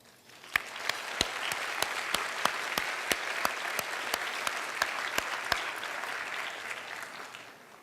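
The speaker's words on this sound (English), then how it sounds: "We applaud you" An audience at Radcliffe breaks into applause that rises quickly and holds steady, with a few sharp, louder claps from nearby hands ringing out regularly above the dense clapping.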